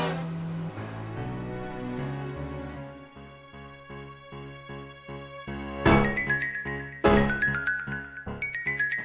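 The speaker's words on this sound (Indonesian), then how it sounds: "Mat telepon gue" A mobile phone ringtone plays a steady, bright electronic melody of repeating tones, with sharper chime-like hits near the end, heard alone without talk.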